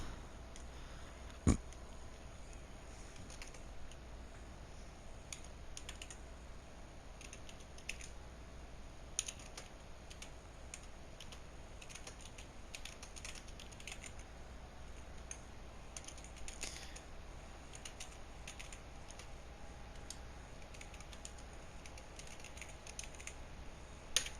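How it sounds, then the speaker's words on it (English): Soft, steady typing on a computer keyboard, a long run of quiet irregular key taps with a few sharper clicks, heard faintly over a low background hum with no voices. "Just give me one moment to have everything typed out."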